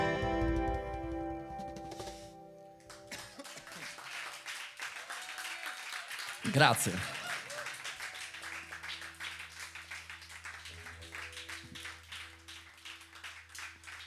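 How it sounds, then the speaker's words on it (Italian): Sustained audience applause after a song at a live music session, broadband and dense for several seconds with a sharp peak midway, preceded by fading instrumental tones; a voice speaks briefly near the end. "Che bello questo applauso prolungato"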